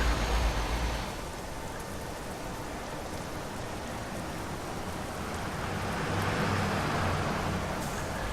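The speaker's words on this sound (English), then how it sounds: "And it's raining." Steady rain in the video game Euro Truck Simulator 2 hisses as a dense, even wash of noise, moderately faint and continuous throughout, with no voices.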